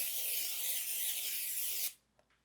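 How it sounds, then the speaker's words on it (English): A can of cooking spray coats a 9-inch pie plate with one continuous, close aerosol hiss that lasts about two seconds and then cuts off sharply. "So I'm going to spray this pie plate."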